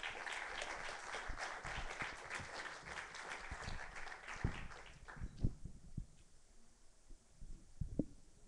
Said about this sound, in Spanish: Les pido un fuerte aplauso para Salvador Rodríguez.